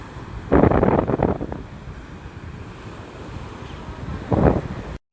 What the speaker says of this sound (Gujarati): આપણે છે ને દરિયા ઘડી ઘડી મસ્ત મસ્ત પવન આવે છે